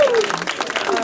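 A brief burst of children clapping at a home academy in Tutu, Ghana, close and lively, with voices mixed in over the clapping.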